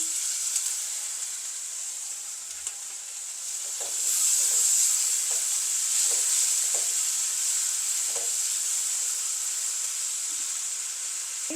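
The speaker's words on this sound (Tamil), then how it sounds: "வெஜ்ஜ சுண்டைக்காய் இதுக்குள்ள நான் சேர்க்குறேன்" Turkey berries (sundakkai) tipped into a hot pan of oil for a vegetarian vatha kuzhambu, the sizzle swelling into a loud, steady hiss with light stirring scrapes throughout.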